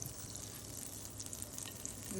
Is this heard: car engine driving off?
no